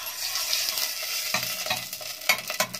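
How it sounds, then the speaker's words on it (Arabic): Butter melts and sizzles in a hot pan, a steady hiss with a few sharper scrapes and knocks of stirring midway and near the end, and no voices. "الزبده اهي بدات تسيح"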